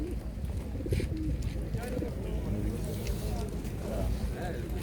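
Pigeons at a pigeon market in Radom coo steadily in soft, rolling, overlapping calls close by, under people talking through the busy outdoor market.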